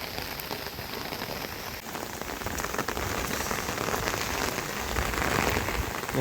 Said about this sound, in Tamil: காற்று மழையும் நல்லா அடிக்குது